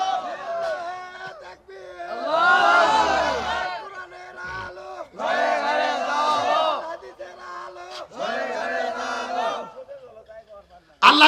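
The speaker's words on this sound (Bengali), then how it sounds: "আল্লাহর কাছে দুটি হাত তুলে তাকবীর দিয়ে দেখায়া দেন" A rally crowd shouts the takbir in three loud, massed roars, each a few seconds long. A single leading voice is heard in the short gaps between them.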